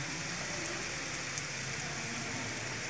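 Garlic, cumin and whole red chilies fry on low heat as the tadka for dhaba-style masoor dal, giving a steady, close, even sizzling hiss with no talking.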